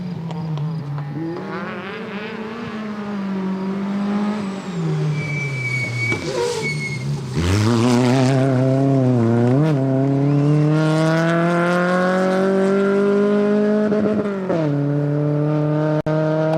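Rally cars on a stage of the Rallye de Pontevedra roar past one after another, engines revving and climbing in pitch, loud and near with rising and falling passes and gear changes.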